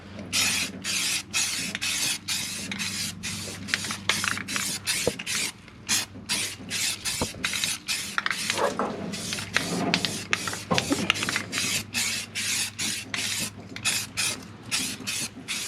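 Spray paint hissing onto a cracked truck frame on a 1994 GMC Sierra K1500, a string of short sharp bursts in a steady rhythm, loud and close, with a faint rattle between them.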